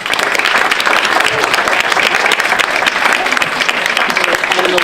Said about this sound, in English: please give a warm round of applause for our first presenter, Chloe Dixon.